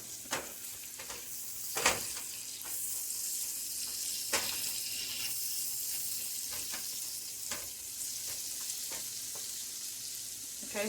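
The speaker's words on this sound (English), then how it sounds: "You just want it to cook evenly. So you can just move it up and down in the pan." Chicken frying in a pan gives a steady close sizzle, broken by a handful of sharp scrapes and knocks as the pieces are pushed up and down, with no talking.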